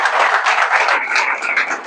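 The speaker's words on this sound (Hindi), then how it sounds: "एक बार जोरदार तालियां अपने लिए होनी चाहिए।" An audience claps together at a motivational talk, a close, steady round of applause filling the short clip without a pause.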